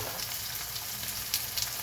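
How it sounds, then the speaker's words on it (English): A steak sizzles steadily in a hot frying pan. The hiss is close and continuous, with a few faint crackles and pops on top and no talk. "you always want to hear that shit sizzle like that."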